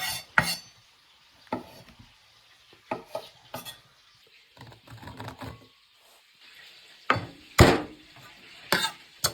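A knife chops large pieces of mushrooms on a cutting board in a home kitchen, giving scattered sharp thuds separated by quiet gaps, with faint handling clatter in between.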